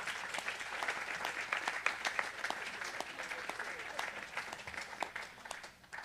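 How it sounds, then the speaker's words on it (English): Steady applause from an audience at a live spiritual satsang gathering in Los Gatos, California, with dense continuous clapping held at an even level for several seconds before easing slightly at the end. "I think he deserves an applause for work he does"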